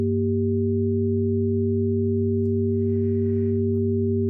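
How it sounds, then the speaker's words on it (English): A simple sine wave synth oscillator run through FabFilter Saturn 2 holds a chord of three steady pure tones, constant and loud throughout, with a faint brief hiss midway and no voice. "It's still a sine wave."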